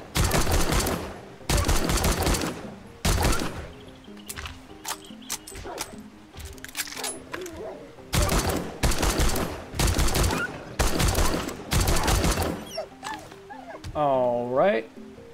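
Bursts of rapid gunfire in 7 Days to Die, several loud sustained volleys separated by short pauses while a player talks between them, ending with a creature's groaning cry.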